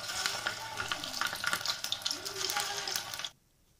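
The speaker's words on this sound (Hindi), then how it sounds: "मैं अब इसको तलने जा रही हूँ पैन में।" Sabudana vada patties sizzle in hot oil in a pan with a busy, crackling spatter close by for about three seconds before cutting off abruptly, with a voice faintly audible underneath.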